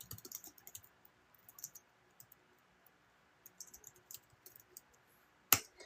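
Soft, scattered keyboard clicks come in quiet bursts with pauses between, ending in one sharper, louder tap.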